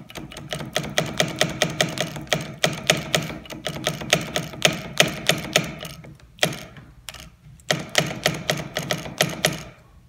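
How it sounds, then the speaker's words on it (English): Rapid clicking and ticking of a KTM clutch lever being flicked repeatedly while the hydraulic clutch master cylinder is bled, a dense run of close mechanical clicks with two brief pauses, no talking. "I'm also going to kind of flick the lever a little bit,"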